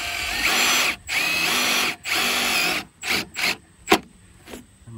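Power drill driving screws into deck stair framing, several whirring runs close up that stop and start, ending in shorter bursts.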